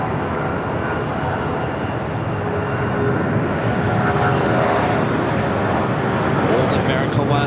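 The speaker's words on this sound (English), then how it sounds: "Old America West A319" An America West Airbus A319 airliner roars steadily at LAX, a continuous broad jet rumble holding at close range for the whole stretch, with a voice talking over it.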